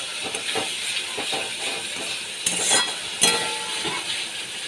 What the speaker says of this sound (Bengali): এবার ভালো করে আমি নাড়িয়ে নিচ্ছি।